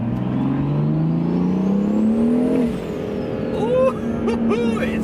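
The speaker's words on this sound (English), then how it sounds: "y'all need to hear some of this turbo noise" A big single-turbo BMW M3 engine revs up in a long rising whine, drops off, then blips again several times with sharp turbo whooshes and whistles.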